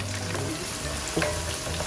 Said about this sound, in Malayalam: ഫസ്റ്റ് നമുക്ക് ചെറിയ ഉള്ളി ഇടാം.